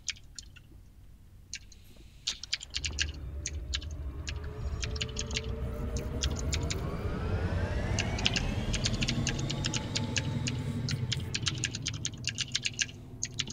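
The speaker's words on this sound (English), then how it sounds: "Typing intensifies." Rapid, irregular keyboard typing clicks run throughout, crisp and close. A low rumbling background swells in after the first couple of seconds and continues beneath the keystrokes, with no talking.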